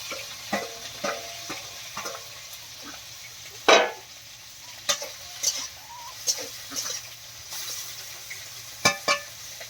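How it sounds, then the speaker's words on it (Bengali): Small prawns frying in a wok, a faint oily sizzle under scattered sharp scrapes and knocks of a spatula stirring, with one louder clatter midway. "এখন চিংড়ি মাছগুলো এই কড়াইতে ভেজে নিই"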